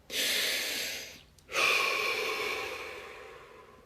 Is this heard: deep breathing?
yes